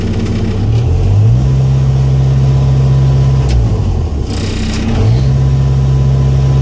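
A 2000 Komatsu PC60-7 excavator's diesel engine runs steadily and loudly up close, its idle rising and dipping twice as the throttle shifts, with no talk over it.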